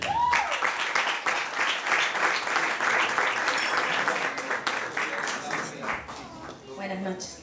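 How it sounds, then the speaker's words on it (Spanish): Audience applause at a televised gala show, steady and full-bodied clapping near and loud for most of the span, tapering near the end as a presenter begins speaking over it. "Recibamos con un fuerte aplauso, ella es Anahí Colavecchia."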